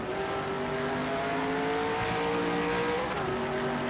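Race car accelerating on the oval track at Loudon, a loud continuous engine roar with rising harmonic whine as it revs, heard close and alone.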